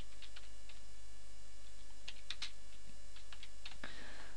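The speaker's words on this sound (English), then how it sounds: "I'm just going to type in," Someone types on a computer keyboard in short, scattered bursts of crisp key taps over a quiet steady hum, with a slightly louder flurry near the end.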